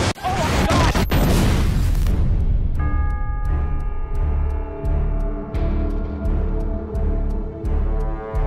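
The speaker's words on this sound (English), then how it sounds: "It's opening fire!" Heavy booms and crashing blasts of gunfire and explosions from a sci-fi war trailer, dense and loud for about two seconds, then giving way to a sustained music score with regular percussive hits.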